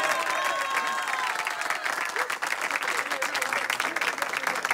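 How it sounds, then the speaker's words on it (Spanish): Audience applause at a gathering after a blessing, a sustained crowd clapping that is fairly loud and even, with a few voices faintly mixed in. "¡Aplausos, por favor!"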